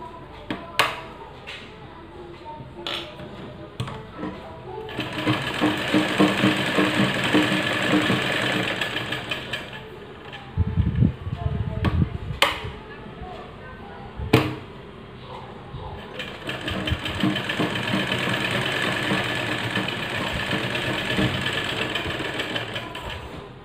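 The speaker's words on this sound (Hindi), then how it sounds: "देखिए चारों तरफ मैं सिलाई करूँगी।" A sewing machine runs in long, steady bursts while stitching all the way around the edge of a small baby face mask. It is fairly loud and close, with short pauses, clicks and handling knocks between the stitching runs.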